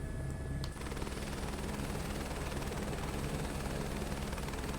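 Steady, continuous rotor and turbine drone of a bare-bones helicopter in Microsoft Flight Simulator 2024 during a slow search-and-rescue flight, level and unbroken throughout.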